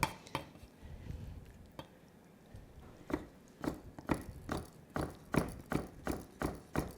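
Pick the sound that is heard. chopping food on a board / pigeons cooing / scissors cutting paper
chopping food on a board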